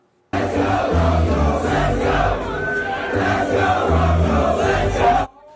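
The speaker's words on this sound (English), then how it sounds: "The team sharing this video showing fans that made the trip to cheer on the team tonight in Thursday night football." Broncos fans in orange fill Bourbon Street in New Orleans before a Thursday night road game, a loud, sustained crowd roar of cheering and chanting that cuts off abruptly at the end.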